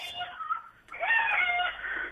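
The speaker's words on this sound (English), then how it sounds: "They're crowing very well" A rooster crows in a long, harmonic call after a brief earlier cry, fairly close, with faint voices nearby.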